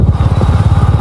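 Royal Enfield Bullet motorcycle engine running in a steady, low, thumping rhythm, close and loud throughout the short stretch with no talking.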